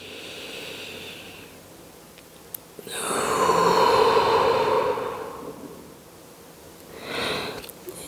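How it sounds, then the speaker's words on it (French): Two deep breaths during a yoga session: a long, audible inhale and exhale, close and soft, then a shorter second breath a few seconds later, with no talking. "Et une dernière grande respiration ici."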